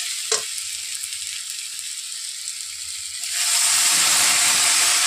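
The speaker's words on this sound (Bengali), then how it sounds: "এখন এখানে আমি মশলাটা কষে নেওয়ার জন্য অল্প একটু জল ব্যবহার করব।" Spice paste frying in a pan: a quiet sizzle with one sharp clink, then a loud hissing burst as a little water hits the hot pan and keeps sizzling steadily.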